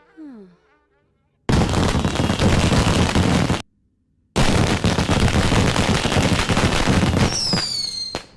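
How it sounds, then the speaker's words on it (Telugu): Firecrackers burst in two long, loud, rapid crackling volleys separated by a short gap, followed by a few whistling rockets at the end. "టపాకాయలు బాబు వెళ్తున్నాయి."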